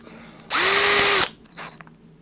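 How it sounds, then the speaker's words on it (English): A power drill bores a screw hole in a build of a 240-volt, 20-amp PID controller, one close, loud whirring burst of under a second, followed by a shorter, fainter spin. "I just drill a hole."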